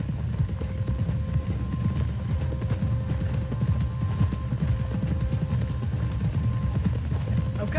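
Horses clip-clopping in the western video game Red Dead Redemption 2, with a steady, continuous patter of hooves close by under a low rumbling background.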